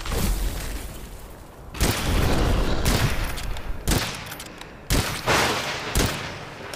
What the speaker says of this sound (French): Il y a un truc qui me tire dessus